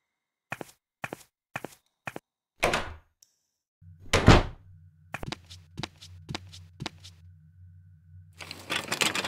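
A locked door is tried in Edna & Harvey: Harvey's New Eyes: a handle rattles briefly without opening, among a run of sharp clicks, a low hum and soft breathy sounds.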